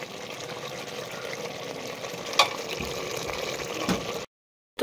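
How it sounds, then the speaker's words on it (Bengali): Meat sautés in an open pressure cooker as a steady, close, broadband sizzle runs without pause for about four seconds. A couple of brief clinks or stirs sit over the hiss before it cuts off abruptly. "মাংসটা এখানে কষানো হচ্ছে।"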